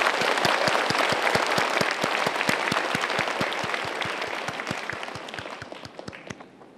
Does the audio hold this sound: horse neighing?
no